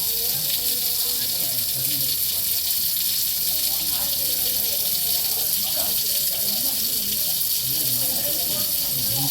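An Indian cobra gives a long, unbroken, hissing rush at moderate loudness, with faint voices murmuring underneath.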